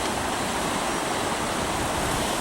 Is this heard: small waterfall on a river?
yes